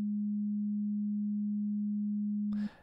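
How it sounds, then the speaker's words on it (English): A pure, steady sine tone from the leftmost oscillator of Ableton's Operator synthesizer holds at one pitch for about two and a half seconds, then cuts off into a brief burst of broadband noise. "So just this one pole all the way over on the left makes a sine wave."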